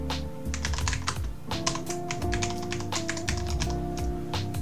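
Rapid typing on a computer keyboard while writing JavaScript code, a close, steady patter of key clicks in quick bursts with a low hum underneath.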